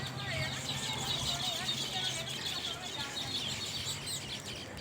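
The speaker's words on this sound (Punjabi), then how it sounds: "ਇਹਨਾਂ ਨੂੰ ਕਹਿੰਦੇ ਜੀ ਵਿਜੜੇ ਸਾਡੇ ਤਾਂ ਵਿਜੜੇ ਪੰਛੀ ਕਹਿੰਦੇ ਆ" Small weaver birds chirp steadily around their nests on an acacia tree, a dense high twittering chorus with a low hum beneath.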